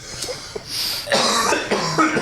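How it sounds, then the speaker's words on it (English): A person coughs harshly in a garage, with several rough bursts and throat-clearing in quick succession, close and loud. "Oh, there's a genuine cough."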